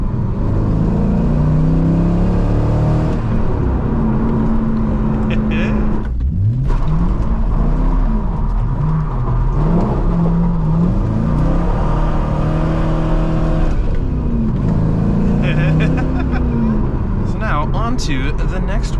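An engine revs and hums steadily while the car is being driven, its pitch rising and falling through gear changes, close and loud for the whole stretch with someone talking over it.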